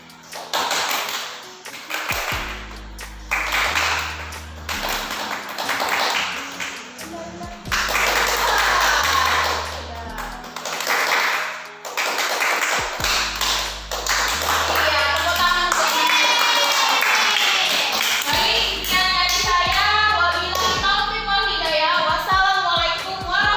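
A classroom group claps hands together in a micro teaching lesson, in rhythmic bursts of patterned clapping that alternate with a teacher's talk, building into a denser, sustained stretch of clapping toward the end.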